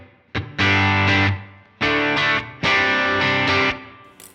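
Distorted electric guitar through a Line 6 HX Stomp Double Tank room reverb, playing three loud sustained chord bursts separated by short gaps, with brief reverb tails between them and no voices.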